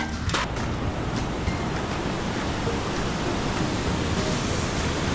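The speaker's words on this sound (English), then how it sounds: "The first part over here is the beach." Surf washes steadily onto a beach along the West Coast Trail, a continuous broadband roar of breaking waves with light wind, close and fairly loud throughout, no voices.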